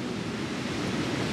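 Ocean waves wash onto the beach at Tulum, a steady broad surf roar that stays even and continuous throughout, with no voices.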